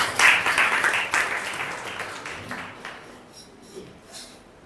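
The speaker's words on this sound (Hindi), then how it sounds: "ताली बजाकर प्रभु को धन्यवाद करें" A church congregation claps hands in thanks to God during a worship service: a loud burst of many hands that thins out and fades over a few seconds, with no talk over it.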